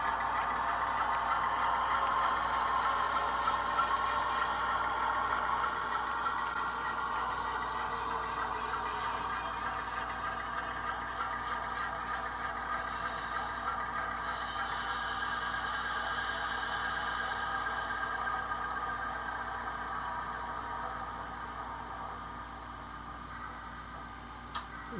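An OO scale model locomotive fitted with an ESU DCC sound decoder runs through its shutdown sequence: a steady, close mechanical hum and hiss that holds for about 25 seconds and tapers only slightly toward the end, with no talking.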